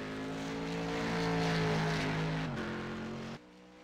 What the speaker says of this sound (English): Oh man, the car sounds so good though.